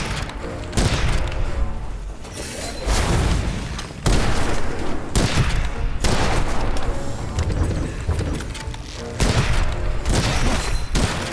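Gunfire in the video game Witchfire: repeated loud bursts of shots and booming blasts in several bursts across the clip, with brief pauses between volleys.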